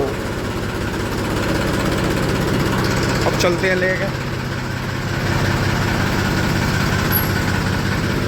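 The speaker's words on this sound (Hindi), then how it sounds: "ट्रैक्टर स्टार्ट करके छोड़ दिया था" A Massey tractor engine idles steadily after being started, a constant low rumble close by with brief clanks, and a person speaks briefly over it.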